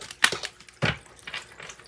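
Tarot and oracle cards are shuffled by hand in two quick, crisp riffling bursts close to the microphone, followed by softer papery rustling.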